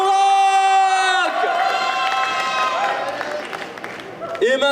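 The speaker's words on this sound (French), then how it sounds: "Vous pouvez l'applaudir très très fort, messieurs, dames" A French otaku-festival cosplay contest audience breaks into loud applause, cheers and whoops for a costumed contestant, the crowd noise swelling after a sustained musical chord and carrying on strongly to the end.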